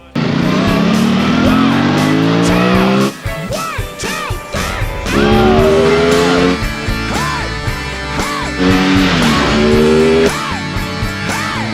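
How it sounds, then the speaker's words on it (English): An Aprilia Tuono 660 parallel-twin motorcycle revs hard, its loud engine climbing and falling through several sweeping rev runs with a husky, hoarse tone and short gaps between bursts. "It's singing with a husky, hoarse voice that can be called sonically beautiful in the context of a motorcycle."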